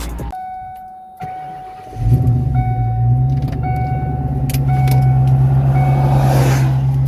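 A Kenne Bell supercharged Ford Cobra running on E85 cranks briefly, catches with a loud rise and settles into a steady, deep idle close by, with no talking.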